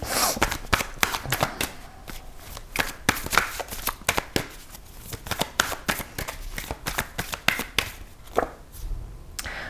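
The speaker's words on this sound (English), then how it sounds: "I feel like maybe I want to also draw a little oracle card" An oracle deck being shuffled at a tarot reading, rapid irregular riffling card slaps and flutters in quick bursts, close and fairly loud with no talk.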